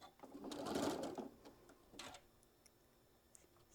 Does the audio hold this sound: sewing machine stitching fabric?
yes